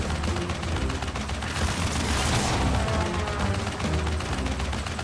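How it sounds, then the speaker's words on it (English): Rapid weapon fire and blasts from enemies being shot in Crash Bandicoot 3: Warped, a dense, continuous stream of pops and bangs over game music, loud and steady with no talking. "I don't know why I'm shooting these enemies, because they just infinitely respawn."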